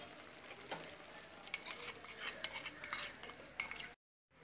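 A spoon stirs a jaggery-coated banana mixture in a pan with a soft, sticky sizzle and occasional light scrapes and clinks against the metal, close and fairly quiet.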